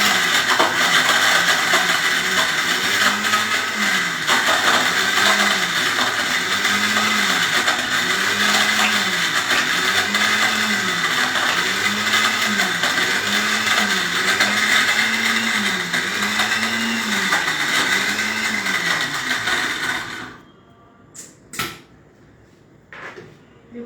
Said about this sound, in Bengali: এরপর অরিও বিস্কিট, একটু ক্রাশ করে নিই।